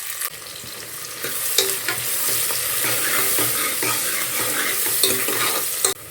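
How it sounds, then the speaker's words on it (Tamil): Sliced onions sizzle steadily in a hot pan while making ghee rice, with occasional scraping and stirring clicks from a utensil, close and continuous. "வெங்காயம் பாதி வதங்கினா போதும்."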